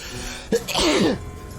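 One sharp sneeze bursts out close by, a quick intake followed by an explosive, breathy release.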